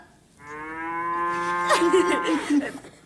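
An invented device imitates a cow, giving one long drawn-out moo that rises into a rougher, wavering bellow, close and clear with no talk over it.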